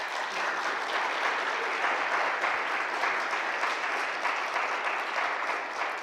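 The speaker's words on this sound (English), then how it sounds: "Let's give them a hand clap." An audience at an NAACP community education panel claps for the panelists, a steady wash of many hands at an even level from start to finish.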